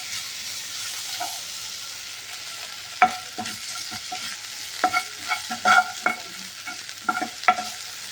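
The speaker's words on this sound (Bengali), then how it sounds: "এরপর দেবো পেস্ট করা আদাটা দিয়ে একটু নেড়ে নিয়ে" Ginger paste and cumin seeds fry in a pan with a soft continuous sizzle, and from midway on a spoon stirs with scattered sharp scrapes and taps. No voices are present.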